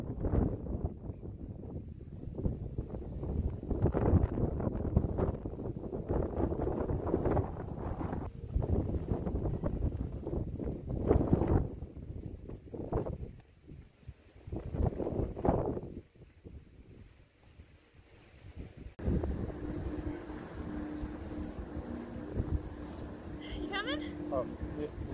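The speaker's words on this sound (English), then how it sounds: "It's very misty and windy up here, and about 10 degrees cooler." Gusty wind buffets the microphone on the misty summit of Grandfather Mountain, loud roaring bursts rising and falling for the whole stretch, with people talking at times and a calmer, steadier hiss near the end.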